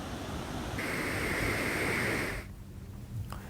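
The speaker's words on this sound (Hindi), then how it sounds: "10-10 फीट तक ये डैम के गेट खोले गए। उसके बाद देखिए पानी का उफान।" Water surges from the thirteen opened gates of Tawa Dam in heavy monsoon rain, a loud, steady broadband roar of rushing water that suddenly drops to a lower rumble partway through.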